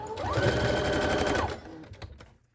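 A sewing machine runs a back stitch on Dollar Tree fabric: a close, steady mechanical whir for about a second and a half, then a few scattered clicks and handling noises.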